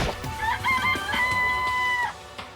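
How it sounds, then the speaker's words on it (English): A chicken in the video game Danganronpa gives a short, clear crowing cluck with rising and held tones, about two seconds long over faint background noise. "It's a chicken. It's really alive"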